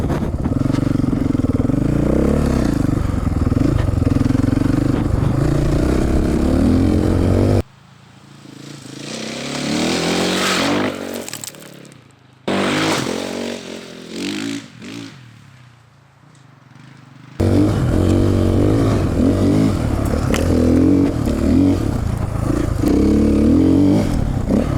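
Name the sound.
KTM 450 Six Days dirt bike riding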